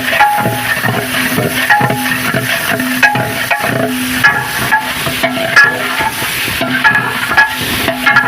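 Tomatoes fry in oil for a chana aloo pulao, with loud, close, rhythmic stirring scrapes and knocks of a spoon against the pot over a low sizzle and no voices.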